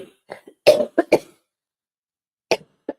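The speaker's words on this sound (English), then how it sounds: "I'm gonna cough." A person sick with flu coughs in several short, harsh bursts, a pair close together, then a pause and two more isolated coughs, near and clear in a quiet room.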